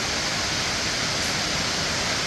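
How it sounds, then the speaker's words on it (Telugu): Loud, steady roar of rushing water at Taraabu Waterfalls, a dense unbroken wash of noise close by, with no voices. "నా లైఫ్లో బెస్ట్ వాటర్ ఫాల్స్ చూశాను"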